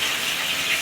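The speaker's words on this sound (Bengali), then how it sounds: "আলু ভাজা হচ্ছে" Potatoes frying in a pan in a home kitchen give a brief, even, close hiss of sizzling oil with no voices.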